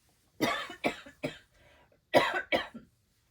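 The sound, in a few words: cough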